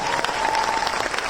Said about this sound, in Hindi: मैं चाहूंगा दोनों के लिए अभी तक का सबसे जोरदार तालियां दोस्तों